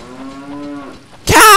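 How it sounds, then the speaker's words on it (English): A cow moos inside Jabu-Jabu's Belly in The Legend of Zelda, a drawn-out harmonic bellow lasting about a second, followed by a sudden loud burst of game sound. "Cow! Why? Why are there cows here?"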